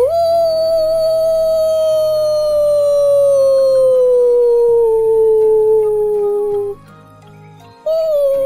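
A voice imitates a wolf's howl, one long sustained tone slowly falling in pitch, loud and close, breaking briefly before rising again.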